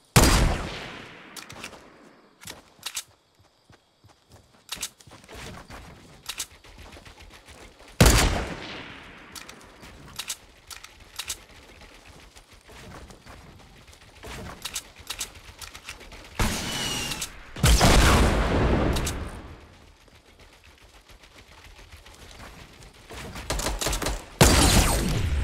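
Gunfire in Fortnite Battle Royale comes in sharp bursts of loud shots and rapid volleys, broken up by mechanical clicks, creaks and reloading sounds, with quieter gaps between the exchanges.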